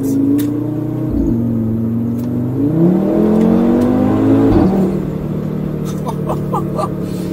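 A 2015 Audi RS3 2.5 TFSI engine revs and pulls forward steadily, its pitch rising through the gears with a loud, close rumble.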